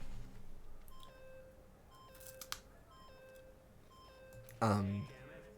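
Series of electronic beeps from the video game Danganronpa stepping through different pitches, separated by pauses, ending in a loud harsh buzz.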